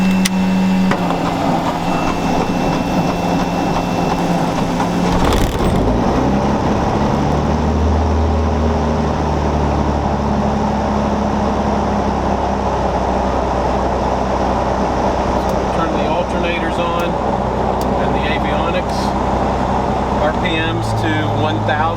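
A Cirrus SR22 light aircraft's piston engine starts and settles into a steady idle, a continuous close droning rumble heard throughout, with a brief louder surge early on.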